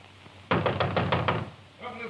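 Heavy wooden door pounded by a fist in a 1950s mystery drama, a rapid burst of about six loud, close knocks in quick succession, followed by a brief voice afterward.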